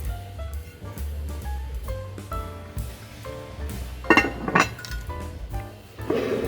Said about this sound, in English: there's something I haven't seen, an aluminum Dutch oven.